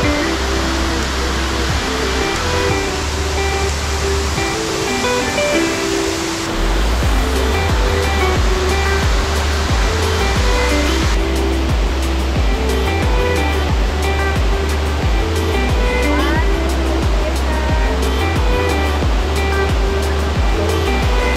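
Kurakaunui Falls: a loud, continuous roar of falling water with broadband rushing noise and a deep low rumble, steady throughout with no talk.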